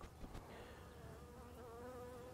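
Honeybees in an open beehive give off a steady, close buzzing hum that carries on without a break. The droning varies a little in pitch as individual bees fly close to the listener.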